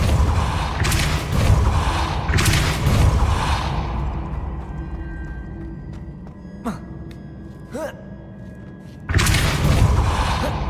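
Spell-casting effects in a Harry Potter-style video game: heavy whooshing bursts with low booming thumps, a fading mechanical rumble, brief sharp swishes in between, then another loud blast at the end.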